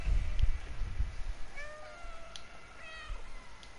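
A cat meows repeatedly in the video game Stray, the calls rising and falling over a steady background hum, fairly close and clear with no talk.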